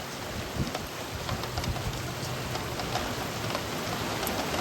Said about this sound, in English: And it just keeps coming too, the rain does.